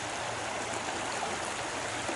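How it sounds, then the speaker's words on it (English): Creek water flows steadily beneath a bridge, producing a constant broadband rush and gurgle outdoors with no voices. "coming up to this bridge here, just crossing the creek"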